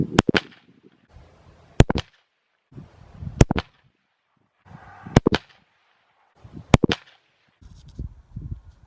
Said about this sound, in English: We'll shoot this target up here with the 40 grain Hornady vmax.